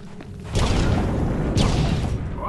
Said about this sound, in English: Wow, there's explosions.